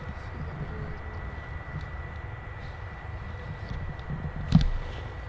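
Distant, low rumble of a Boeing Dreamliner airliner at Manchester Airport, steady and faint under open-air background noise, with a brief thump near the end.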